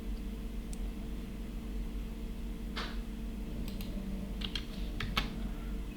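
Typing on a computer keyboard at a desk, a few isolated key presses and short quick clusters of clicks over a steady low background hum, close and quiet.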